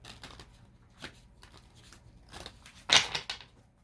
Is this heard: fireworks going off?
no